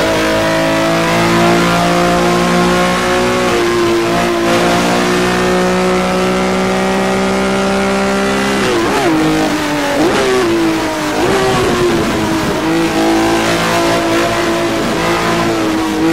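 A BMW M1 Procar's engine in the Automobilista racing game, loud and steady, droning as it climbs through the revs with gear changes and pitch dips around the middle, then building again.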